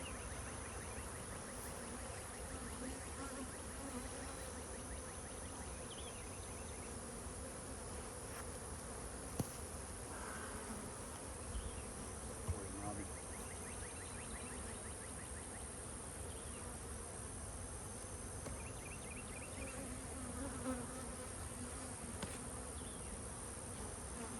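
Honeybees at a beehive during jar feeding give off a continuous, dense buzzing drone at a steady level, with a few faint clicks and knocks from the hive work.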